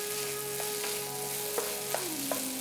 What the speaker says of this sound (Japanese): 少し蓋をして蒸し焼きにしていきます。